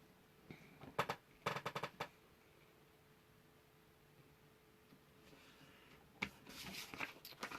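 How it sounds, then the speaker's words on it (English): A paper card creased one way and then the other, giving a few brisk crinkling, rustling bursts near the start and again at the end, with quieter handling in between and no talking. "I'm gonna fold it once forward, and then we're gonna flip it and actually fold the next one backwards."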